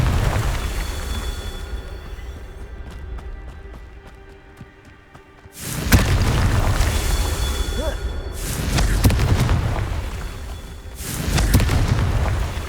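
Confringo spells go off in Hogwarts Legacy as loud booming blasts, three or four explosions spaced a few seconds apart, each with a rumbling tail, separated by quieter magical ambience.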